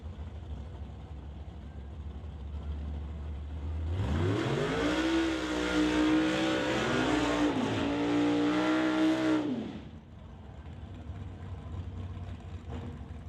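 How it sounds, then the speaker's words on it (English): A pair of Canada West Doorslammers drag cars, one a Nova, do burnouts: about six seconds of loud, harmonic engine roar rising in pitch with tire squeal, abruptly cutting back to a low idle rumble. "We get ready for burnouts from the pair."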